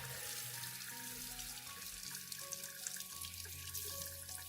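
Running tap water rinsing a plant's roots, a continuous close splashing flow with drips and shifting gurgles as the roots move under the stream, with no talk.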